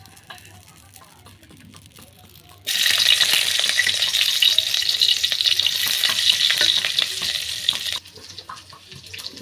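Onions hit a hot pan after fried bitter gourd and sizzle loudly and steadily while being stirred, the hiss running for several seconds before dropping back to a quiet background.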